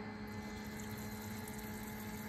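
A small battery bait-bucket aerator runs with a new hose and air stone, giving a steady, close electric pump hum and buzz with faint bubbling, unchanging throughout.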